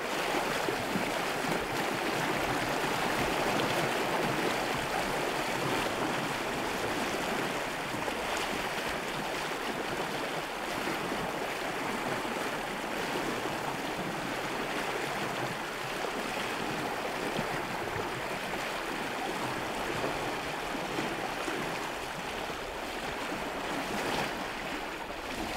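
A river current runs steadily in the wild on Kodiak, a broad continuous rushing wash of water with no voices, constant in level throughout.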